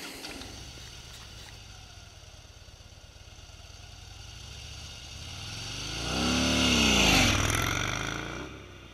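A 2017 Harley-Davidson Fat Bob motorcycle with a high-output Twin Cam 103 V-twin engine rides along. A low engine drone gradually swells into a loud revving pass with rising and falling pitch near the end, then eases off.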